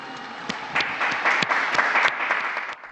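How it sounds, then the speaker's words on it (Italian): Crowd applause in St. Peter's Square for a newly canonized saint, a dense wash of clapping that swells and holds steady for a few seconds, with a few sharper claps standing out near the front. "he asked for an applause for the new saint"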